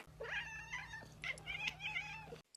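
A person's voice imitates a black cat's odd monkey-like call instead of a meow, a series of high warbling, chattering squeaks close to the listener, with a low steady hum beneath.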